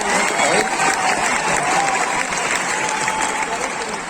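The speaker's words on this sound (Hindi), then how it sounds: "अरे ताली तो बजा दो" An audience at a business success seminar breaks into steady, dense applause that holds at full strength throughout before easing slightly at the end.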